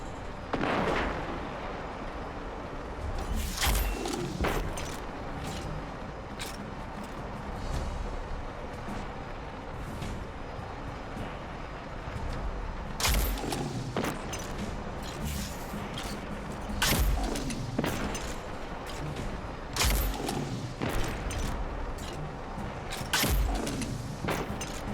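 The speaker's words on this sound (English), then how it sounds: "Now I'm going to push these exploding barrels off." Exploding barrels blowing up in the shooter Destiny 2, during a Grandmaster Nightfall on Inverted Spire, several sharp booming blasts spaced irregularly over a steady background of game ambience, no talk.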